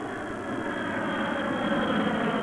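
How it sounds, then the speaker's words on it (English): A plane with untreated jet engines flies overhead, a constant, dense broadband roar that holds steady and swells a little toward the end, with no voices over it. "Listen to the difference as first the plane with the untreated engines flies over."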